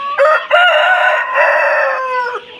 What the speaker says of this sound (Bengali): ওরা খাবার খাওয়ার জন্য একটু চিল্লাচিল্লি করতেছে